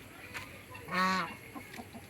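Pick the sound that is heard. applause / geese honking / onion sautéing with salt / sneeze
geese honking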